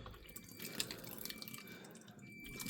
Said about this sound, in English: Oh, look at the amount of water dripping out of there.